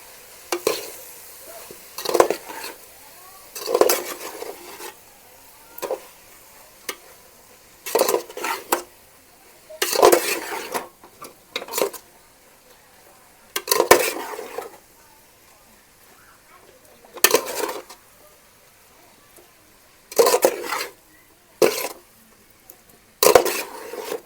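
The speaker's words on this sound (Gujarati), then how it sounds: "મિક્સ કરી લઈએ બધું." Pava bateta, a dish of flattened rice and potato, being stirred in a pan: repeated clattering scrapes of a spoon against metal, in irregular bursts with quiet pauses between, close and fairly loud.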